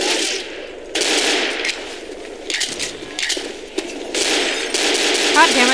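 Gunfire in the video game Left 4 Dead comes in several loud, sharp bursts of rapid shots separated by brief gaps.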